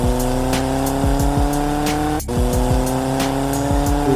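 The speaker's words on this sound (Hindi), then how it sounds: "फिर वो गाड़ी चला के ग्रैनी के पास से निकल गई पूरा स्पीड" A race car engine roars steadily and close, its revs climbing and dropping through repeated gear shifts, with a brief tire squeal and a short dip in sound as it speeds past.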